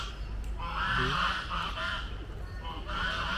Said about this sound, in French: Ce sont les oies là.